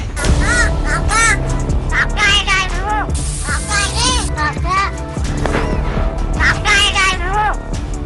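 Repeated harsh caws from a crow close by, arriving in bursts across a busy, noisy background.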